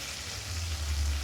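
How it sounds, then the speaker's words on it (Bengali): Fried potatoes and spices being stirred in a pan for a fish and potato curry give off a faint, soft, steady sizzle over a brief moment, with a low hum beneath. "এবার আলুর সাথে মশলাগুলোকে আবার একটুখানি সুন্দর করে কষাতে থাকবো।"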